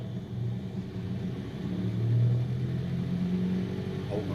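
Cessna 152 engine being run up to 1500 RPM with brakes held before takeoff, a steady low propeller-engine drone that swells slightly midway, heard from the cockpit.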